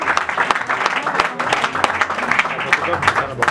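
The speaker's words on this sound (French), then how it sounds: "Applaudissez très fort" Audience applause at a political event fills the whole stretch as a dense, steady patter of many hands, with voices mixed in underneath the clapping throughout.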